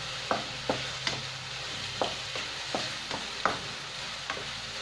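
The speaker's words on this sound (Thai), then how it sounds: "เสร็จแล้วเราก็จะตามด้วย หน่อไม้ฝรั่ง เพราะว่าหน่อไม้ฝรั่งเนี่ย ผัดแป๊บเดียว" Asparagus being stir-fried in a pan for a vegetarian dish, with a steady sizzle under about eight evenly spaced scraping strokes of a spatula, close and fairly quiet, with no talking.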